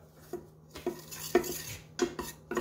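All-purpose flour toasting in a pan, stirred with a metal utensil: a string of distinct scraping clinks against the pan in an uneven rhythm, close and fairly quiet, no voices.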